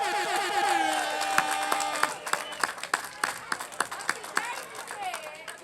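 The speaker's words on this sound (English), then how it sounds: "Let's give Mary Sheffield a round of applause." A voice carries on at first, then an outdoor community gathering breaks into scattered, uneven clapping from a modest crowd, individual claps standing out sharply rather than merging into a roar.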